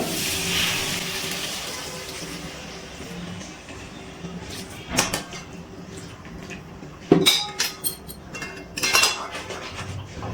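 Mixed vegetables are stirred with a little warm water in a cooking pan. A spoon scrapes, and sharp clinks against the pan come in irregular bursts over a low, steady background.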